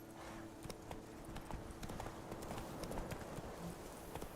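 Roach, the horse in The Witcher 3: Wild Hunt, galloping along a road toward town, its hooves beating a quick, steady clip-clop rhythm at a moderate distance over a soft ambient bed, with no talking.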